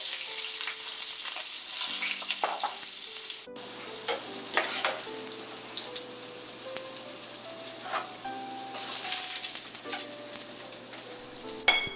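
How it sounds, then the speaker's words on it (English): Eggplant frying in oil gives a continuous sizzle, with a few clinks and light stirring knocks from the pan and some faint tonal background music underneath. "In the same oil, fry the eggplant and when done,"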